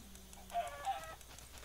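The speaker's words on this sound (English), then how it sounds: "I'm gonna kill a chicken." A chicken in the Minecraft video game gives two short, soft clucks over a faint, steady game background, with no talking.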